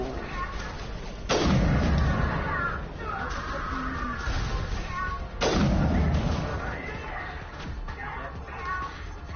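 Two loud sniper rifle shots in the video game Warzone, about four seconds apart, each with a sharp crack and booming low tail, amid game sounds and some faint voice.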